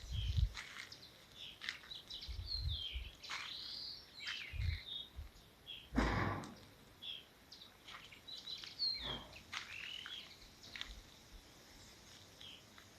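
Small birds chirp and sing outdoors on a summer day in a garden, with scattered bright calls coming and going from nearby and farther off, and no talk over them.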